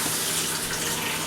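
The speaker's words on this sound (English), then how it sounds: "now we're going to fill it up, and you want to cover the water level" Tap water pours steadily into a cooking pot, a continuous close splashing rush with no talking over it.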